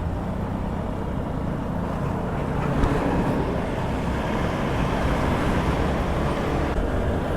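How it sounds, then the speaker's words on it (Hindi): Busy morning road traffic on the way to Alibag, a dense continuous rumble of passing vehicles heard from a moving ride, steady and fairly loud throughout. "सुबह सुबह ट्रैफिक ज़्यादा ही रहती है यहाँ पे।"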